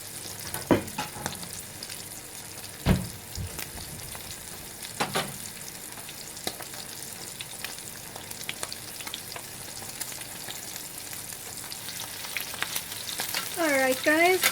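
Steak pan-searing with thyme and rosemary, a steady close sizzle and crackle with occasional stirring and clinks of a utensil against the pan.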